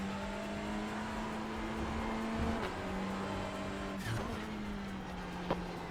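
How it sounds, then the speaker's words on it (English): A Hyundai TCR touring car races in the iRacing simulator on the Okayama full course. Its engine drones steadily and rises and falls through the gears. A faint tire squeal is heard, and there is no talk. "Hyundai following a Honda does not sound pleasant."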